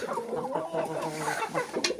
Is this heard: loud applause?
no